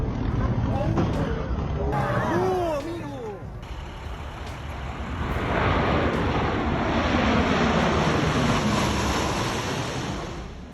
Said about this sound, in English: the plane hits a barrier right after touching down